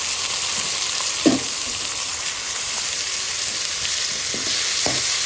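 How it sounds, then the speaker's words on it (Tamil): Ripe tomatoes going into a pan of onion and ginger-garlic paste for chicken gravy, giving a steady broadband sizzle with a couple of brief stirring knocks near the start and end, close and continuous with no talking. "வெங்காயத்தோட இஞ்சி பூண்டு பேஸ்ட்டும் நல்லா ஸ்மெல் போக வதக்கியாச்சு இப்போ நம்ம தக்காளி ஆட் பண்ண போகிறோம்"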